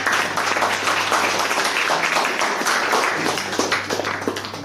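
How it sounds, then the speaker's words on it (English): Brief burst of audience applause, many hands clapping in a dense patter that gradually thins out. "huge round of applause for all of you for coming here"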